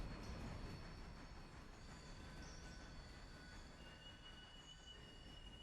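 Train rolling along the rails in the railroad game Railroader, a steady, continuous rumble of wheels with faint high squealing tones, fairly close and unbroken, with no talking over it.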